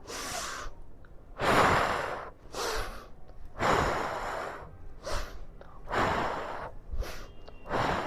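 A person doing a stretching exercise with interlocked hands takes deep breaths in several loud, close bursts of inhaling and exhaling, separated by short pauses.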